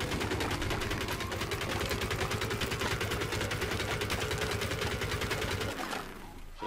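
A steady, fast rattle of automatic fire from a Plants vs. Zombies: Garden Warfare gun pounds continuously and loudly for several seconds, then cuts off near the end.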